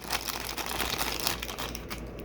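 Crinkly tearing of tape being peeled from plastic toy packaging while unboxing a MOTU Origins action figure, a steady close-up crumpling and ripping sound with no talk.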